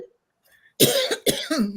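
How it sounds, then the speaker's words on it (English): After a brief faint sound, two sharp coughs burst out close and loud, followed by a throaty rasp as if clearing the throat. "What you coughing now?"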